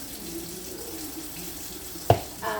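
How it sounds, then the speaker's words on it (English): Tap water runs over pre-washed red potatoes in a kitchen sink, a steady gush at moderate level with a sharp splash near the end, no talk. "all I'm doing is just running them over water now to make them cut better"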